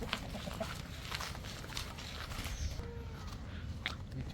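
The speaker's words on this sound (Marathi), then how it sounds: "गावच्या कोंबड्या गावठी" Free-ranging village chickens cluck faintly at a distance outdoors near Revdanda beach, Alibag, on the coast, under a low background hum.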